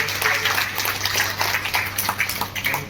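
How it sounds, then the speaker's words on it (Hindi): Audience applause at a Moradabad handicrafts association annual meeting: dense, steady clapping filling the whole stretch at moderate loudness, with no clear voice over it. "मैं चाहूँगा जोरदार तालियों के साथ"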